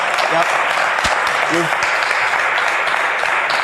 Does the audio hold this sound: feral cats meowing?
no